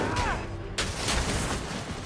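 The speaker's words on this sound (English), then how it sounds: "Oh, that's an explosion and a half." A loud explosion in the Spider-Man (2018) video game, a sharp burst followed by a sustained crackling roar of game effects.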